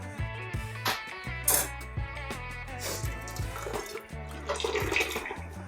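Whey drains through a white cotton cloth into a perforated vessel while homemade paneer is made. It is a continuous watery rush and trickle that lasts the whole time, heard under background music.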